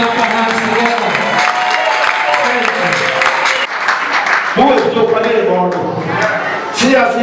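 A crowd applauds steadily throughout while a voice speaks over the clapping.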